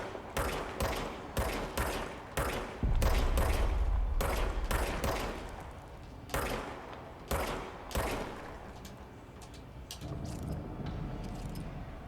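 Gunfire from a weapon in the video game Control: repeated sharp bursts of rapid shots in quick clusters, loud and close, with a heavier rumbling stretch in the middle and fainter mechanical clicks between bursts.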